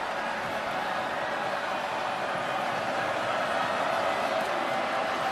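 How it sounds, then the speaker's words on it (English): Restless stadium crowd at a college football game after a penalty, a dense steady roar of voices that fills the whole stretch at an even level with no single cheer standing out. "Crowd very restless with that penalty."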